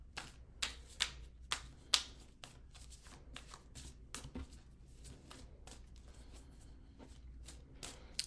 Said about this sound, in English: Sometimes I shuffle the cards once and the card pops out, and sometimes I have to shuffle like 25 times before a card.